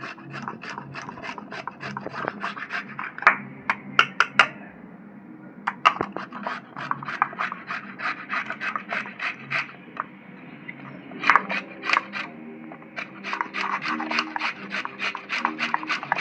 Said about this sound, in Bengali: এবার আমি ঘষুনিতে ঘষে নেব